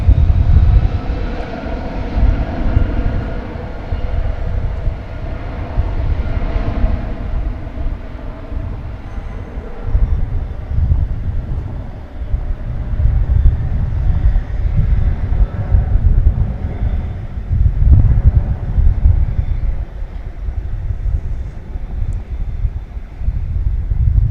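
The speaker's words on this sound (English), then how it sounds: "a very snappy liftoff, as you might expect from a 757" Boeing 757 jet takes off at DFW Airport, a loud, sustained engine roar with heavy low rumble that swells and holds for over twenty seconds, heard from the airport grounds.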